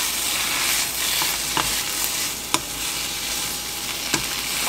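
Garlic mushrooms frying in a pan as turmeric powder goes in, a steady close sizzle with a few sharp clicks of a spoon stirring against the pan, no talking.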